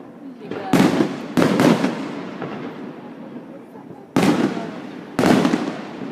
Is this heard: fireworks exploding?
yes